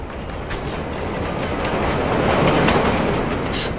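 A train rolls past in a rail transit yard in Splinter Cell Blacklist, a loud, steady rumble of wheels and rattling cars that builds and holds throughout.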